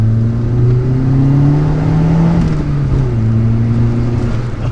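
A 1992 Fiat Uno Turbo's transversely mounted 1.4 turbocharged engine pulls hard under acceleration, its loud droning note climbing steadily, dipping briefly at a shift and rising again, close and continuous with no talk.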